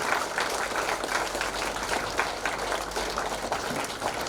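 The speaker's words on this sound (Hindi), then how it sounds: "ताली बजती रहनी चाहिए।" A church congregation at a 72-hour fasting prayer meeting in Ranchi keeps up steady applause to welcome pastors and segment leaders, a moderate, continuous patter of many hands at an even, somewhat distant level.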